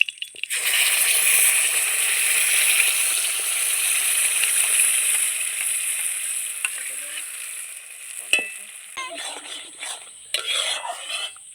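Pumpkin mixture for laddu fries in plenty of ghee in a kadai. A loud, hissing sizzle starts abruptly, holds steady, then thins toward the end with a few scraping knocks.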